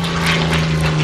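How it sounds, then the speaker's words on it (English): A Hispano Buchon fitted with a 1600 horsepower Rolls-Royce Merlin engine flies past at an air show, giving a steady, loud propeller-engine drone with a strong low hum that holds evenly throughout. "the Bouchon, which was powered by a Rolls-Royce engine, a Rolls-Royce Merlin of 1600 horsepower"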